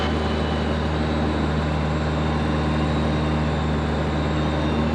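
Light aircraft cruising level at 2500 feet, a loud steady engine drone with constant tonal hum heard from inside the cabin, unbroken and without speech.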